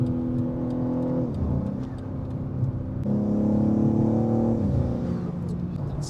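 A Manhart MH3 650 tuned BMW M3 Touring accelerating on the Autobahn, heard from inside the cabin: a loud droning engine rising in pitch through gears, with brief dips at two shifts, no talking.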